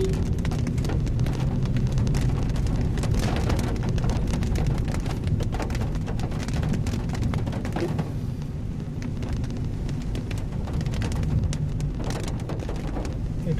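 Steady rain pouring onto a village road at dusk, a dense continuous hiss of drops hitting the surface with occasional heavier spatters, loud and unbroken.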